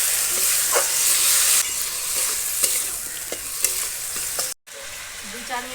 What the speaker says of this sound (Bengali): মশলা রেডি হয়ে গেছে, ভেজে রাখা কুচে মাছ দিয়ে